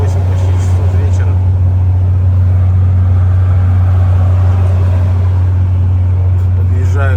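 A loaded long-haul truck drives out of Vladivostok in the evening, its engine humming low and steady from inside the cab with constant road rumble.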